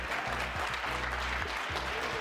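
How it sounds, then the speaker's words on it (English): Clapping from a small group in the video game Doki Doki Literature Club rings out in a steady patter, with a low rhythmic hum running underneath. "The four of us applaud."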